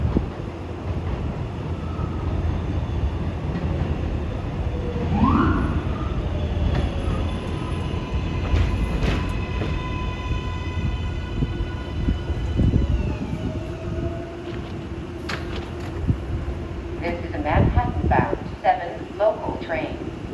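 A westbound NYC #7 Line subway train runs past with a long rumbling roar, rail squeals and clanks rising and fading, wind buffeting the microphone and voices heard over it.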